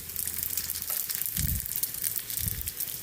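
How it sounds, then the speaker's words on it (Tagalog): Bean sprout spring rolls (lumpiang toge) fry in hot oil with a steady, close sizzle, swelling in two brief louder bubbling bursts, with no talking. "Magpiprito na tayo ng ating lumpiang toge."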